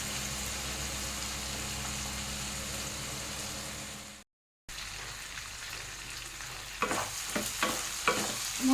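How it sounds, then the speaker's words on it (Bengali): Spice paste and potato stir-fry in oil for a Bengali stingray curry, a steady close sizzle with a short break, then a few scraping stirs toward the end. "মশলা আর আলুটা একেবারে ভালো করে কষিয়ে নেব।"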